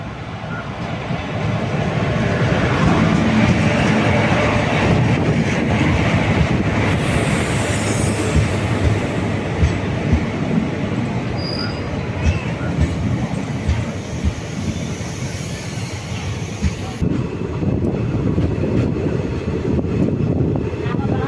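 Bengaluru-Karaikal unreserved passenger express train arriving at a station, a loud continuous rumble of railcars and rolling wheels with faint wheel squeal, steady throughout, with a hint of voices beneath.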